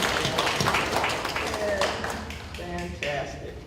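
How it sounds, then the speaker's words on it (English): Applause at a school board meeting rises as a steady wash of clapping that fades gradually, with a few voices talking over it toward the end. "let's give everyone a round of applause"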